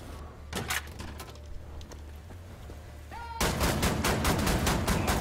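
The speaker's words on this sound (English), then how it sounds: "How many shotgun shots they take?" Shotgun blasts ring out in the first-person shooter Wolfenstein: The New Order, with a few sharp shots early on and then a dense, loud burst of gunfire in the second half.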